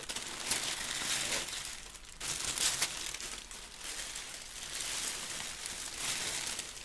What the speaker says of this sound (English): So there's a lot of paper. I'm sorry for all the noise.